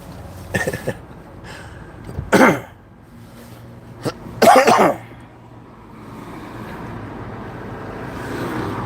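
Several harsh coughs in separate bursts a second or two apart, then a low, steady background rumble takes over.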